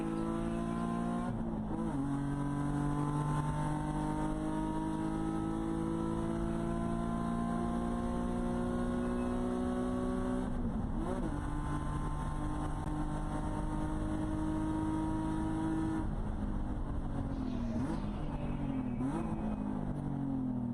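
A race car at Road America, running in a 2021 WRL endurance race, screams close by, dropping to a lower gear with quick blips before hammering back up through long, rising engine pulls.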